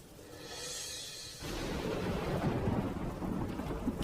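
Windy rain and a thunderstorm: a rumble of thunder fades into a steady, heavy hiss of rain falling on surfaces, loud and continuous throughout.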